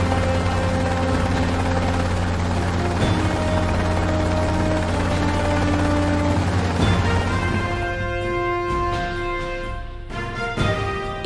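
A cartoon helicopter arrives with a loud, steady rotor drone and whining engine tones that hold for several seconds, then thin out with a few sharp thumps near the end.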